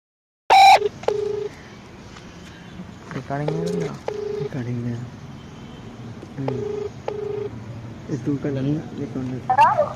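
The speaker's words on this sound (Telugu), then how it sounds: "ఫోన్ రింగ్ అవుతుంది, చూద్దాం." During a prank phone call, a line tone sounds as a sharp beep and then repeated ringing tones over several seconds, with people talking in between.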